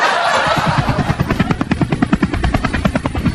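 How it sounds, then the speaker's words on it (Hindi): A cartoon helicopter flies overhead with a loud, fast, steady rotor thumping over a whooshing engine drone, heard without any voices. "चलो यहीं हेलीकॉप्टर को उतारता हूँ"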